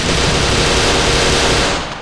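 Sustained, dense automatic gunfire in a shooter game fighting SCP creatures and zombies, loud and unbroken, roaring for about two seconds before tailing off.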